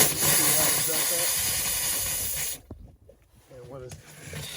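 Compressed air hisses loudly as it blows water out of the lines of a Fun Finder camper travel trailer, then cuts off abruptly and returns fainter moments later, with someone talking over it.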